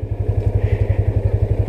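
Motorcycle engine idling close by at a hill viewpoint parking spot, a steady pulsing thump repeating evenly throughout with no voices.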